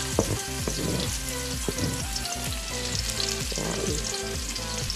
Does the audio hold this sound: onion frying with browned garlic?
yes